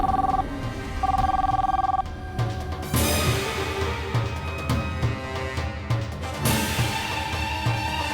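A phone rings with a repeating electronic tone in bursts over the first couple of seconds, then steady background sounds and music-like tones continue.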